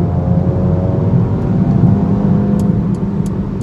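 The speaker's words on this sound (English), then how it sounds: "the turbocharged AMG enhanced turbocharged 2-liter 4-cylinder engine" The turbocharged 2-liter four-cylinder engine of a 2021 Mercedes-AMG A 35 hatchback drones loudly and steadily, with a deep, even hum from start to finish and no talk.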